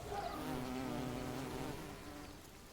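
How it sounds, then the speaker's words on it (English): A wool carder bee buzzes steadily at an old wooden fence, a close, continuous insect drone with a sustained hum that holds throughout and eases slightly near the end. "A wool carder bee has moved in."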